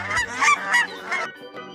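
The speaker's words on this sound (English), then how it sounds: "Goose." A goose honks several times in quick, harsh, nasal bursts, loud and close, followed by a fainter call, with no talking.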